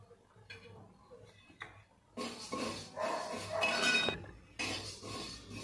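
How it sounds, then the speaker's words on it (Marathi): Mustard seeds dry-roast in a pan with a crackling, sizzling rustle that swells in bursts as they are moved about, fairly soft and close. "आता मोहरी भाजून घेते."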